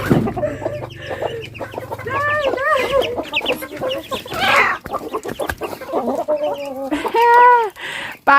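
Several chickens cluck and squawk loudly nearby in overlapping bursts, with a few higher, drawn-out calls toward the end, ducks and chickens being caught in a Lao village.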